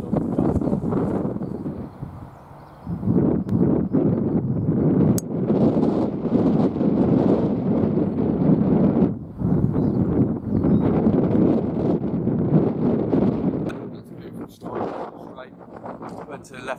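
Gusty wind buffets the microphone on a golf course at Christchurch Golf Club, loud rushing bursts with brief lulls, while someone talks over it.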